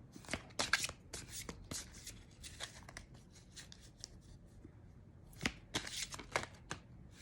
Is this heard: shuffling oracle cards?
yes